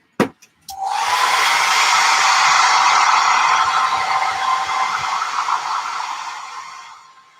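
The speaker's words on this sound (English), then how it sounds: "Hair dryer on cool." A hair dryer on the cool setting clicks on with a couple of switch taps, then blows as a loud, steady airy whoosh close by, gradually softening before it shuts off; no voices.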